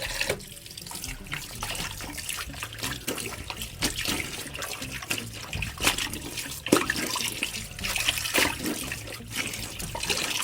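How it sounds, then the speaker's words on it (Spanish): Tap water pours into a laundry sink, a continuous splashing stream with gurgling bursts and small clatters, close and moderately loud throughout, with no speech. "Yo vacié el lavadero, lo vacié de agua. Vamos a llenarlo de nuevo"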